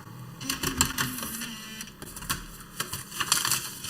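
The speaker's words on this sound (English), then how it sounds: "hard drive still grinding away to itself" Hard drive in a 12-inch PowerBook G4 grinding, an irregular run of close scratchy clicks and chattering seeks that rise and fall continuously without pause.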